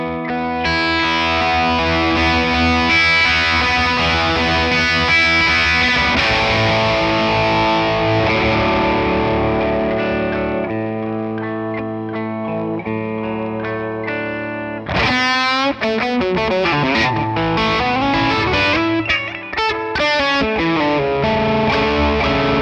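An electric guitar with heavy distortion plays sustained chords, then shifts to sharper, faster picked phrases, loud and up close, with no voices.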